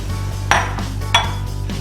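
All-purpose flour for a chocolate cake being sifted in a metal sifter, giving two sharp clinks about half a second apart over a steady low background hum.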